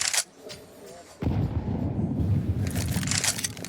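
A grenade goes off in a Counter-Strike match on the Nuke map as a sudden heavy blast followed by a sustained rumbling roar, loud and close.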